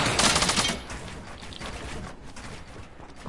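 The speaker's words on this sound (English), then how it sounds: "he keeps shooting me down" Gunfire in Fortnite Battle Royale: a loud burst of rapid automatic shots at the start, then a thinner scatter of quieter, more distant shots that keeps going to the end.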